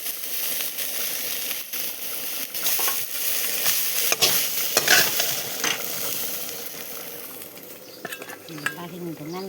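Garlic and spices fry in hot oil for a curry, a dense crackling sizzle with scraping stirs and occasional metallic clinks of the utensil against the pan, near and steady throughout.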